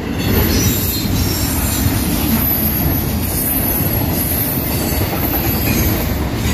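A fast hotshot freight train at about 50 mph roars past close by, a loud continuous rumble of wheels with high squealing and rattling cars, no voices.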